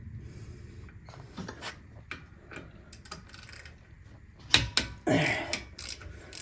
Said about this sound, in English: Now I'll use a 13mm for the middle. I'll loosen that up as well.